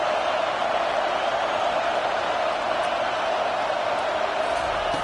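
Broad, constant roar of a college football stadium crowd early in a game, an even wash of distant cheering and murmur that neither rises nor falls, with no distinct voices.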